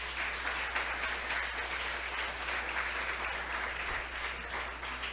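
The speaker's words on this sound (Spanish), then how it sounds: "Vamos a darle un aplauso a Dios con temor" A church congregation applauds with steady, continuous clapping that holds an even level from start to finish.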